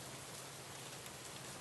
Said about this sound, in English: Watching the rain nourish the plants can provide a calming and reassuring presence